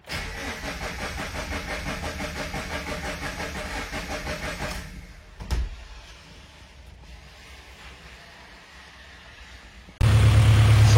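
A car engine cranks and runs roughly for several seconds with its sound generator tube removed, cuts out with a brief clunk, then a low rumble resumes abruptly near the end.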